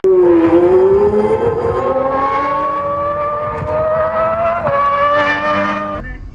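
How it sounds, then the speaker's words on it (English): Several race car engines roar at full throttle, a loud, sustained drone with rising pitch as the cars accelerate away together, then a brief dip and another surge near the end. "Gentlemen, start your engine."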